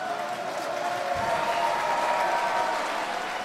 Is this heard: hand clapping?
yes